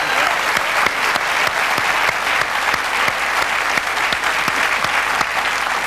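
A television studio audience at a 2004 Australian show with Olivia Newton-John gives a round of applause, a full, loud, unbroken clapping with crisp claps popping through the steady wash.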